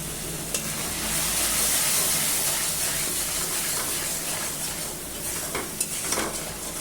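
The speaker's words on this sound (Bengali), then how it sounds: "দেখেন মশলাটা ভাজছি" Ground spice paste with salt and turmeric fries in a pan and is stirred, giving a steady close sizzle and hiss broken by the scrape of the spoon, with no voices.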